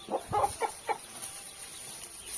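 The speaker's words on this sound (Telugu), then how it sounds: "మిగతా 7 కోడి పిల్లలు ఉన్నాయి" Small chicken chicks give a few quick, soft peeps close together at the start, then the scene goes quiet apart from faint background hiss.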